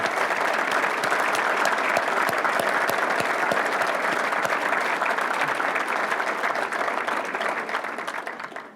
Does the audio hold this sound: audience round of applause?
yes